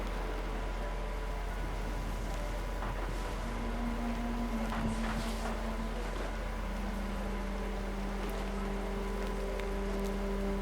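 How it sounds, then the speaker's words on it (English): Storm rain in the video game What Remains of Edith Finch: a steady, even wash of rainfall, continuous and moderately loud, with faint tonal game music drifting underneath. "Rain came down in buckets then"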